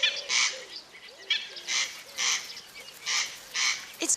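A small secretive bird hidden in long grass repeats a raspy, rasping call in short bursts about every half second to second, faint and somewhat distant against a quiet outdoor background.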